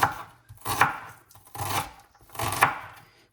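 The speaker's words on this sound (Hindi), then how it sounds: "ये प्याज चॉप करके ही डालने हैं।" Onions chopped on a board, four firm knife strokes at a slow, even pace, close and clear with short pauses between.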